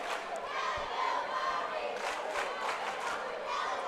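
A packed gym crowd at a high school basketball championship game roars and cheers steadily from both sides, loud and continuous throughout with shouts rising above the din.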